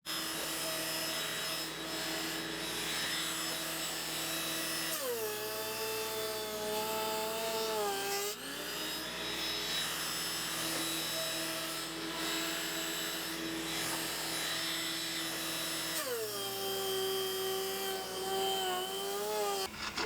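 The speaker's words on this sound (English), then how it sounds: "So we are going to plane these down to about 1/2 inch." A benchtop thickness planer runs continuously as wooden boards are fed through, planing them down to about half an inch. The loud, steady motor whine shifts pitch at several points, dipping and rising as each board enters the cutterhead and passes out.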